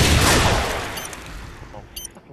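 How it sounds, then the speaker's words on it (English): A grenade launcher in Call of Duty 4 fires with a loud, close blast that fades into a rumbling decay, followed by faint clicks, with voices in the background. "Oh, fucking grenade launcher."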